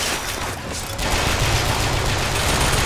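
A turret fires in the video game Bioshock Infinite: dense, continuous rapid gunfire that fills the clip and grows louder and heavier after the first second.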